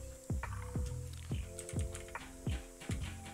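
Keys on a computer keyboard are struck in a steady series of about eight distinct taps, close and moderately loud, with no talking over them.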